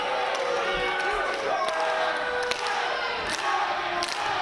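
Wrestling crowd at a VI Pro Wrestling show during Matt Maverick vs. Devon Shooter, a loud chanting roar with rhythmic stomps and thuds and a few sharp cheers, with commentators talking over it.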